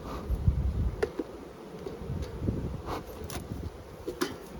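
Honeybees buzz around a hive as smoke is puffed beneath it at an outdoor apiary, a steady near hum with brief clicks and handling knocks over it.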